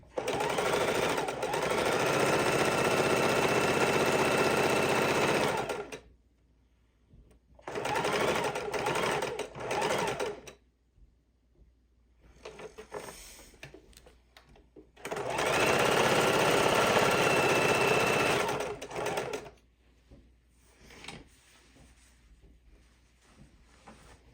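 A sewing machine stitches quilt fabric in fast, rhythmic bursts, three stretches of rapid stitching with quiet pauses and faint handling noises between them.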